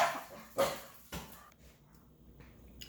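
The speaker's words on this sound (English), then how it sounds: "they were barking like crazy" Dogs barking indoors: two or three sharp barks in quick succession, moderately close, then a quieter stretch with faint room noise.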